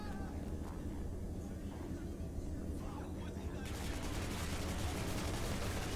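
Rapid video game gunfire from Hatred as a full magazine is emptied, a dense, continuous burst of shots that grows louder and sharper partway through, with someone talking over it.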